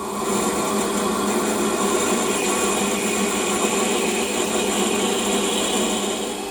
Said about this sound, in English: And the 6 mil drill.